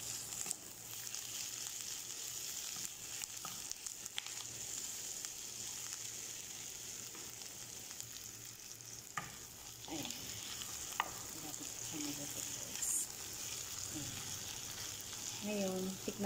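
Potato mixture for Arabic kubba frying in a pan and being stirred, a steady sizzle with scattered scraping and clinking of the utensil, closer and busier toward the end.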